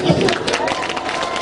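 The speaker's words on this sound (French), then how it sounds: "Et les gens applaudissent." People in a church crowd applaud in a short burst of brisk, continuous clapping, with voices and crowd noise mixed in throughout.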